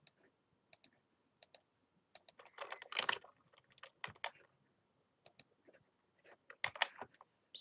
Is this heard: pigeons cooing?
no